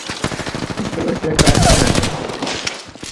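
Rapid automatic gunfire from a weapon in the Apex Legends video game, firing at an enemy squad through a digital scope, as a loud dense burst of repeated shots that swells and trails off.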